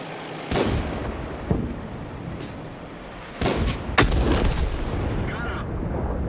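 Tank cannon fire in the World of Tanks video game, from a G.Pz. Mk. VI tank: four loud, heavy blasts spread across the stretch, each with a sharp crack and a rumbling tail, with a quieter battle din between them.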